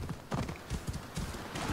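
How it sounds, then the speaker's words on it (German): Horse hooves clip-clop at a steady trot while riding in Assassin's Creed Odyssey, a rhythmic run of close, moderately loud hoofbeats over a soft game ambience. "Kann ich jetzt mit meinem Pferd zum Schiff reiten"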